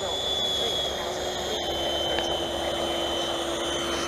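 An HSD 1400mm Viper Jet RC model jet taxiing across grass with a steady, continuous whine and hiss of electric ducted-fan thrust, close and constant throughout, with faint background noise and no voice.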